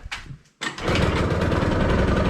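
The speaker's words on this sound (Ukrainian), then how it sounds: "Получається, дивіться, як чудово заводиться." A Piaggio Liberty scooter engine cranks briefly, pauses for a moment of quiet, then catches and runs at a loud, steady idle close by for the rest of the clip.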